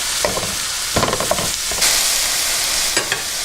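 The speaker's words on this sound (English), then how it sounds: "you want to cook the beef with the onions together so that the onions can soak into the ground beef" Ground beef and onions frying together in a pan over medium-high heat, a steady bright sizzle broken by several scraping stirs of a utensil, close and loud with no talk.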